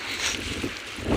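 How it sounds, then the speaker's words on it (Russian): A strong gale of around 27 metres per second blows past roofs, a continuous rushing, roaring wind with gusty swells and buffeting on the microphone. "такой ветер воет"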